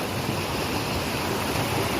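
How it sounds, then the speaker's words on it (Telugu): Waterfall water rushes and splashes over rocks in a dense, continuous roar, loud and close, with no breaks or voices, in Andhra Pradesh. "రాళ్ళ నుంచి చూడండి ఎలా ఫ్లో అవుతుందో వాటర్"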